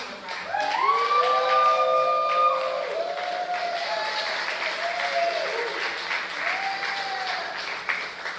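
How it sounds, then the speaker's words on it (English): An audience at the Black Voters Matter Freedom Ride opening ceremony bursts into sustained applause for a speaker, with vocal cheers and whoops rising over the clapping before it settles to a steady patter. "Give him your applause, give him your honor as he makes his way to share with us the oral history of the freedom ride."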